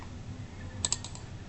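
A computer keyboard typed on while entering an Excel formula: a short run of four or five quick, crisp key clicks near the end, close but fairly quiet over a low room hum.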